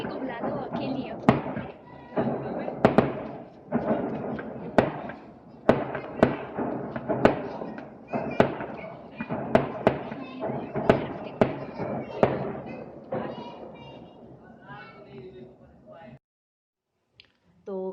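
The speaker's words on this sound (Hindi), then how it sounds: "बाहर जो है वो बहुत ज़ोर ज़ोर से पटाखे हो रहे थे" Firecrackers bursting outdoors during a power outage in India, a rapid series of loud sharp cracks and thumps over about sixteen seconds, mixed with voices, before falling quiet.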